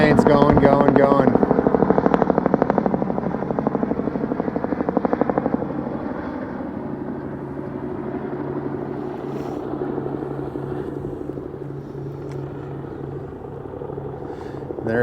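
Firefighting aircraft flying back to refill water during a wildfire at the Larch Creek Fire, a loud droning rotor and engine rumble that fades slowly into the distance, with a brief voice near the start.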